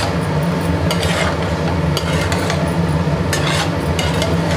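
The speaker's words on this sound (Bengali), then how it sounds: "আর ঢাকবো না, এবার নাড়তে থাকবো।" Gobindobhog rice stirred steadily in a pan on a hot stove as its water cooks off, a continuous close scraping and bubbling hiss with small clinks of the spoon against the pan, no talking.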